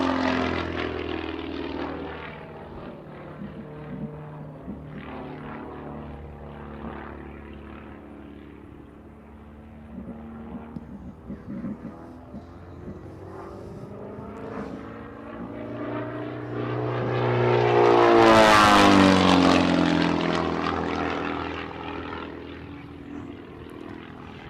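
A Pietz S1 aerobatic propeller plane performs at the Sun 'n Fun air show, its engine droning steadily before swelling to a loud, close pass and then fading off.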